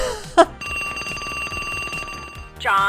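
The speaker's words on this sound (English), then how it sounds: "John, if you don't pick up this phone, I'll be in your face in 5 minutes" A telephone rings steadily in an FMV video game, a sustained electronic bell tone lasting a couple of seconds between brief louder sounds at the start and end.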